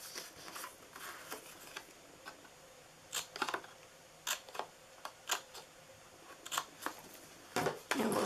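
Scissors cut along the sides of cardstock paper, giving a series of crisp, separate snips at an uneven pace over a quiet background with no voices.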